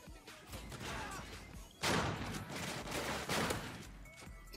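Rapid gunfire rattles in Call of Duty Ghosts, dense bursts of shots with a sharp crack near the middle, fairly faint and continuous.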